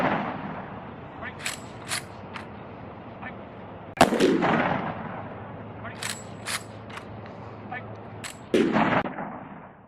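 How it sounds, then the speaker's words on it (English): Rifle volleys from a military firing party at a burial with full military honors, three sharp loud cracks spaced several seconds apart, each ringing out briefly in an open outdoor setting. "Firing party! Fire 3 volley!"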